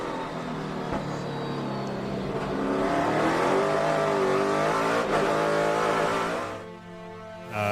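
NASCAR race car on a road course heard from onboard, engine droning loud and steady then briefly cutting as it downshifts into a corner before picking back up.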